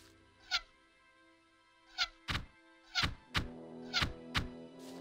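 Crossbow shots in Gothic 2 land as roughly seven dull, punchy thunks, spaced irregularly with some in quick pairs, over a quiet background.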